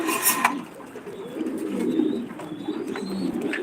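King pigeons coo softly at a pigeon farm in Senbag, Noakhali, their low murmuring steady under faint high chirps from other birds across the whole stretch, with no voices.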